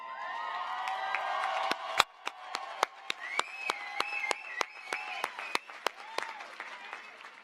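Sparse, distinct hand claps from an audience at a 2022 college commencement for the College of Arts, Humanities, and Social Sciences, individual claps ringing out over a murmuring crowd with a voice speaking through it.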